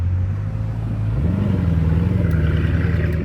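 A car engine rumbles low and deep, close by and steady, with its pitch rising slightly partway through as it idles and revs a little.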